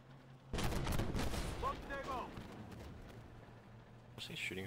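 Tank cannon and gunfire in the armored vehicle combat game Armored Warfare, a sudden loud blast followed by rolling rumble and crackle, with a voice talking briefly over it.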